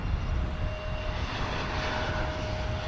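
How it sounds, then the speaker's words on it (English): A steady, loud roar comes from an Embraer 175 jet airliner at DFW Airport. The whine of its engines holds constant throughout with no talking. "Embraer 175 on its way to Boise."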